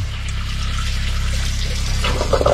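Water from the submersible pump in a Hymer MLT 580 camper van runs from the tap as a steady, close, fairly loud flow with a low rumble, and a few splashy bits come near the end.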